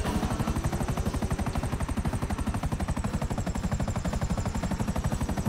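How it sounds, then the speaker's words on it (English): Slightly damaged helicopter in GTA V, its rotor thumping in a fast steady rhythm, loud and close throughout with no talk. "A slightly damaged chopper."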